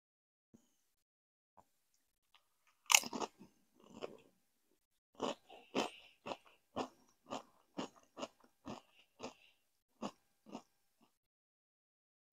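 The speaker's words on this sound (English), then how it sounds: "It tastes like that weird sort of Kraft sliced cheese." Someone chews cheese taken from an advent calendar, with soft, close, wet bites and a run of about ten evenly spaced chomps in an otherwise quiet room.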